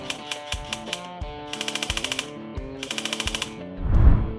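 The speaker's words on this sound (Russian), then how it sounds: "чтобы привод стрелял автоматом даже при коротком нажатии спуска" A tuned airsoft AUG A2 electric gun fires short automatic bursts on brief trigger pulls, a few scattered clicks followed by two quick rattling strings, close and clear, ending in a low thump.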